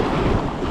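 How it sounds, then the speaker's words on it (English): Loud sea surf and gusting wind buffet the microphone beside Peel Castle, a continuous rough roar of breaking waves with no speech. "Quick, before the waves come in and get you again."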